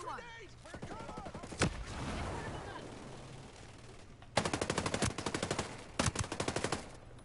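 Automatic gunfire in the Ghost Recon Breakpoint video game, with a lone shot early, then two loud rapid bursts near the end, over a low game hum and ambient noise.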